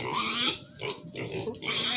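Pigs grunt close by in a pen on a pig farm in Assam, giving a continuous run of rough, snuffling grunts with brief dips between bursts.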